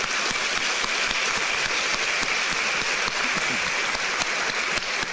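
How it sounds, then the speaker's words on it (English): Steady applause from a seated audience at a chamber of commerce event, dense continuous clapping that holds at an even level throughout. "So give yourself a round of applause."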